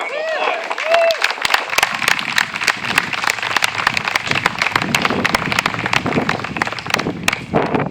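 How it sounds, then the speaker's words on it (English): Gathered audience giving a round of applause, a sustained burst of many claps with sharp individual hits, fairly close, with a brief voice or tone near the start before the clapping takes over. "Give yourself a round of applause."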